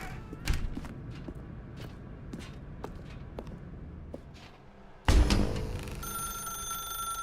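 A telephone rings in the video game The Stanley Parable 2 Ultra Deluxe: a few soft footstep thumps, then an abrupt, loud, sustained bell-like ring from about five seconds to the end.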